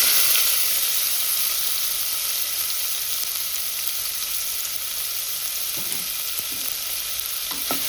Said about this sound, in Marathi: पॅनान तेल घातलें. आनी कांदे कातरून घेतल्या बारीक चिरून.